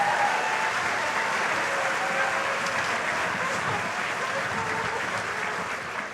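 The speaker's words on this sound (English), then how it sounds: "One more round of applause for them." Steady applause from a concert audience for an elementary school choir, a dense, even wash of clapping that holds at full strength for the whole stretch and fades slightly at the end.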